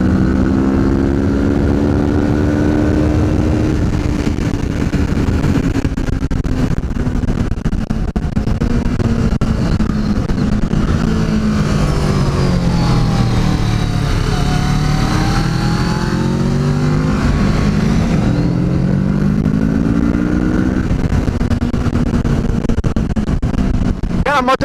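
A Kawasaki Z650 motorcycle on a test ride, its engine loud and close, revving and falling through gear changes with a pitch that sweeps down and climbs again, wind roaring throughout.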